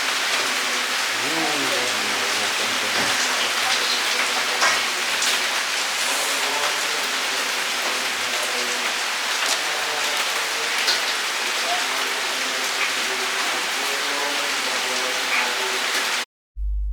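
Heavy rain pours down steadily at night on the Dieng Plateau, a dense, even hiss of drops close by that goes on without pause. Faint voices and small knocks sound beneath it before it cuts off abruptly at the end.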